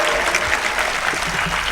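Loud, dense applause from a crowd at a youth expo welcoming a speaker to the stage, a brief steady burst of many hands clapping close by.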